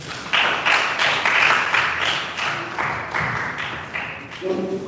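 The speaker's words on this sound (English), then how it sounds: "Can you clap for yourselves?" Children in a seated audience at a mental health awareness gathering clap together in a steady, broad burst of applause that rises, holds and tapers over several seconds, with no voices over it.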